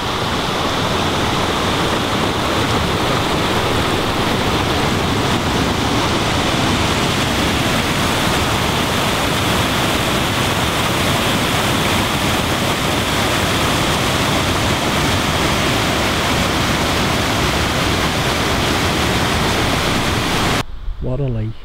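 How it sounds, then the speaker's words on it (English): Lake water pours steadily down a dam sluice, a loud, unbroken broadband rush that holds constant for about twenty seconds before cutting off. "This is the lake water now running down the sluice."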